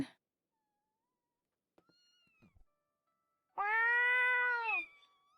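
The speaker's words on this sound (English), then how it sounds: "I was going to get really sad over this little kitten not being able to find its mum." A kitten in an anime scene gives one clear, drawn-out meow after a couple of faint earlier sounds, loud and close against near silence.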